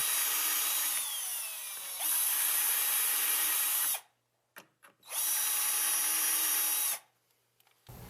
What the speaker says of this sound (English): Use your Vicks bit and pre-drill your screw holes.